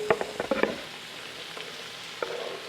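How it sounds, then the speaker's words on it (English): Carrots, celery and garlic sauté in a pot, giving a steady soft sizzle with a few quick stirring clatters near the start and occasional scrapes later. "I'm going to saute this and it'll be done in just a few minutes"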